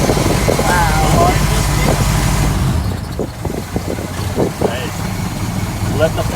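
A Ford Model T engine chugs along in high gear at a car museum event, a steady low rumbling throb that is louder in the first half and then settles under intermittent clicks and a brief voice.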